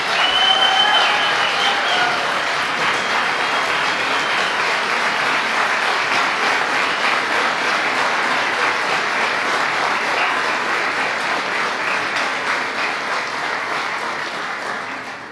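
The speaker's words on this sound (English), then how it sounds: "A big round of applause for our amazing Second Lady" Sustained, enthusiastic applause from a large crowd at a venue welcoming Second Lady Usha Vance, a loud continuous roar of clapping with a few cheers near the start, holding strong before easing slightly.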